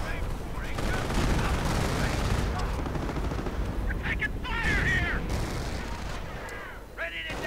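A war strategy video game plays continuous rifle and machine-gun fire with distant artillery thumps in a dense battle din, while a commentator talks over it.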